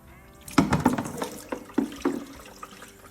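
Oily water from a Chrysler truck splashes and gurgles as it drains, coming in several distinct close splashes and glugs over a quiet background.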